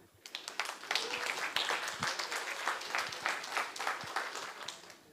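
Audience applause for an art critic and associate professor at an art history talk, a few seconds of steady scattered clapping from a smallish crowd, moderately quiet and fading slightly at the end.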